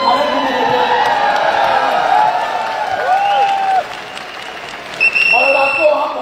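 Audience applause and cheering fill a large indoor stadium at a live seminar, a dense sustained wash of clapping with scattered whoops, close and loud, with a voice talking over the crowd.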